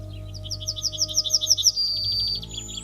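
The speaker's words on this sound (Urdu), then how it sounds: "یہ چڑیا آپ کو نیوزی لینڈ اور آسٹریلیا کے کھلے علاقے میں کسی درخت پر بیٹھی اپنی سریلی آواز میں گاتی نظر آئے گی" A yellowhammer sings from a tree in open country: a quick run of bright repeated chirps that speeds up and ends in a drawn-out higher note, clear and fairly close against quiet background.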